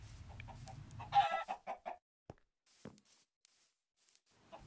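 Chickens in Minecraft cluck in a quick run of short, close squawks, then a few isolated clucks trail off into near silence.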